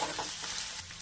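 Mushroom curry frying in oil with turmeric and chili powder, a steady bright hiss with faint stirring scrapes, close and continuous for a brief moment.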